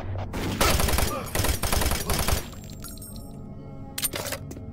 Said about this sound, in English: You're gonna interrupt my solitude with your gunshots?